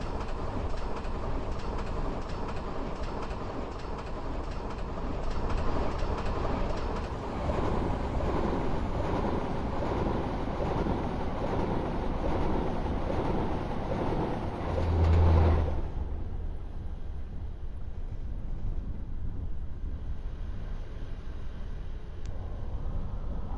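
WAG 9 electric locomotive hauling the Rajdhani Express in Train Simulator, a continuous loud rolling rumble and rail roar for most of the stretch, dropping sharply to a quieter hum near the end; no talk.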